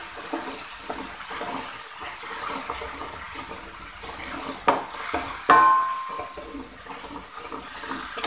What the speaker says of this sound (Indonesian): Kita tumis terus bumbunya sampai matang.